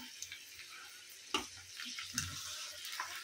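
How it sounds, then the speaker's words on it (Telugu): Garlic cloves and dried red chillies frying in hot oil for an amla pickle, a faint crackling sizzle with two sharper pops and light stirring scrapes. "ఇలాగే వేడి నూనెలోనే ఇలా కలుపుకుంటూ ఫ్రై చేసుకుంటే ఆ నూనె వేడికి అవే ఫ్రై అయిపోతాయి"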